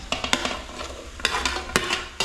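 Small shallots sautéing in a hot pan, with a steady close sizzle and repeated scraping clicks from a spoon stirring them, and no talk.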